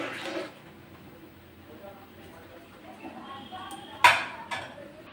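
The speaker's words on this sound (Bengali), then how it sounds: "সব চালগুলো দিয়ে দিয়েছি, এবার একটু নেড়ে দিতে হবে" Rice for fried rice is stirred in a pan with a metal utensil, giving soft scraping and a few sharp clinks of spoon against pan, the loudest strike near the end.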